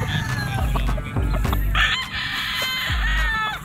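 Gamefarm roosters crow repeatedly, loud and close, over steady clucking and farmyard bird chatter.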